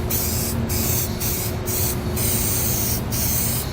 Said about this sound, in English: I'm going to use some spray adhesive. I'm just going to spray this whole frame.